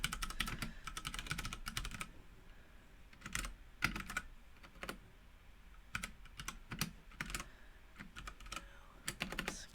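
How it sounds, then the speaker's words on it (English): Someone types on a new computer keyboard, nearby and fairly quiet, with bursts of rapid key clicks separated by short pauses. "Can't type, new keyboard."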